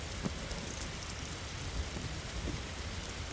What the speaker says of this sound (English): And it's raining again, making it harder for things.